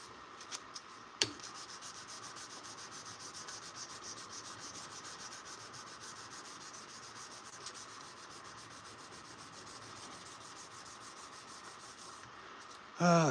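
A knife blade is hand sanded with sandpaper in a steady, faint, continuous rubbing and scraping, with a sharp knock near the start and a brief louder sound at the end.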